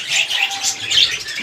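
Pet birds chirp and call in quick, overlapping bursts of high tweets, close by and fairly loud, a steady busy chatter with no voices over it.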